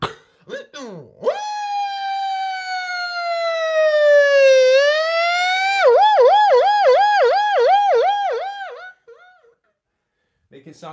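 A human voice imitates a siren, first a long rising and falling wail, then a fast warbling yelp, loud and alone, with short vocal sounds around it.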